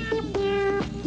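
A cat lets out a few short, clear meows in quick succession, close and fairly loud, heard alone without talk.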